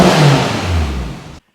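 Loud drivetrain whine and engine roar from an all-wheel-drive Honda Civic Type R, a sustained revving drone that sweeps downward and fades before cutting off abruptly.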